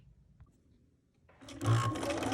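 A sewing machine starts up after a quiet pause and stitches fabric, its motor building into a steady, close whir and rattle for the last second or so.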